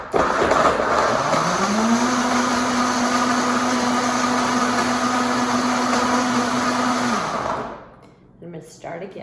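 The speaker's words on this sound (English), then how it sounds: "I happen to be using a Vitamix today, and here we go. Are you ready? It's noisy. You do a little pulsing." Vitamix blender whirring loudly as the motor ramps up to a sustained high-speed roar, then winds down near the end, followed by faint background sounds.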